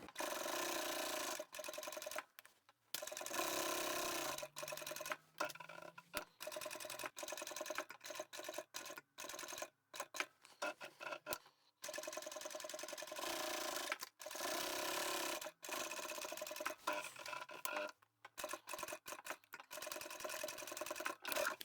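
A sewing machine stitches a lined vinyl bag with webbing handles in bursts of rapid mechanical clatter, broken by short pauses as the stitching runs forward, back and forward again, close and fairly quiet with no talk.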